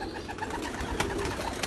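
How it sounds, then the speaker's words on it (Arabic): Pigeons or doves coo close by in a rooftop loft of red birds, soft repeated low calls over a dense, busy background of fluttering and shuffling. "هاي الطيور"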